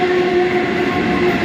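A local commuter train passes close by in a loud, steady rumble of rolling wheels and carriages, with a sustained tonal whine running through it and no voices.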